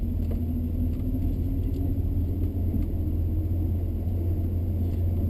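A 1966 Plymouth Fury III pulls away and drives, heard from inside as a steady deep engine rumble with continuous road drone, loud and unbroken.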